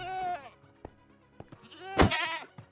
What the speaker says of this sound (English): Did the goat just run into Verity?